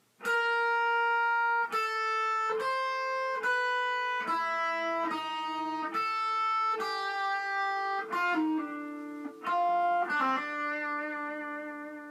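A clean electric guitar plays a Pokémon Omega Ruby/Alpha Sapphire theme, a melodic line of distinct picked notes and pull-offs, some ringing out, steady and clear with no voices.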